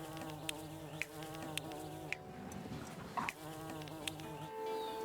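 Bees in the video game Laysara hum as a continuous, layered drone, steady and fairly loud, with a few short clicks scattered through it.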